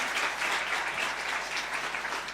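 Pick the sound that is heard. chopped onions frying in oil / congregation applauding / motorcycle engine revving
congregation applauding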